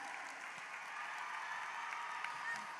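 A graduation ceremony audience applauds for a foreign exchange student, a steady wash of distant clapping from a large crowd filling the hall, even and moderately faint throughout.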